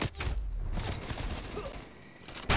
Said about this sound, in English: The precision airstrikes.